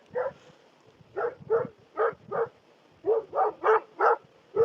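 Dogs barking at night in bursts of two to four barks separated by short pauses, moderately close and fairly loud against a quiet background.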